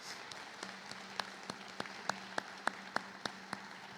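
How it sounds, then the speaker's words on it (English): Faint, sparse clapping at a high school graduation ceremony: a handful of separate, evenly spaced claps, growing slightly sharper midway, from only a few hands. "So join me in giving them a round of applause."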